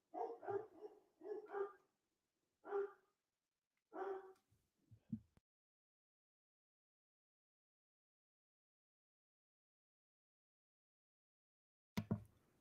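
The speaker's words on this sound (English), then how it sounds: "So just dogs in the background barking." Dogs bark in the background in short clustered bursts early on, then fall silent before one last bark at the end, faint and somewhat distant.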